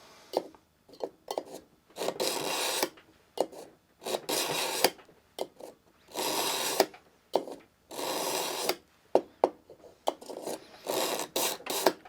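A steel knife pulled repeatedly through a Wusthof carbide sharpener, giving about a dozen close, harsh rasping strokes in a steady rhythm with brief quiet gaps between them.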